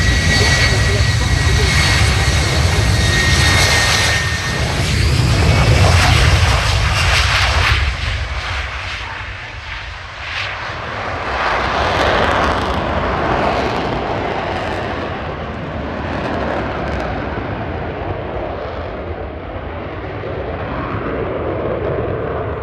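An F-35B fighter jet's engine roars at an airshow display at RIAT Fairford, England, a loud continuous rumbling thrust that swells, dips and surges again, with a commentator talking over it.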